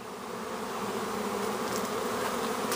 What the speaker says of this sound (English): This swarm just came in.